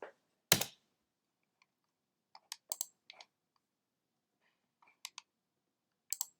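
Computer mouse clicks while picking food entries in a HealthTrac food diary, heard as a handful of sharp, close, isolated clicks in short pairs and singles against near silence.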